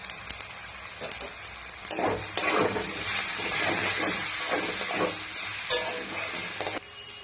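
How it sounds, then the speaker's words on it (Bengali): A spice paste with chili powder and turmeric powder is sautéed in a pan for a spinach and fish-head chorchori. It sizzles and bubbles steadily, with several stirring strokes on top. No one speaks. "মশলাটা আমার ভালো করে কষানো হয়ে গেছে"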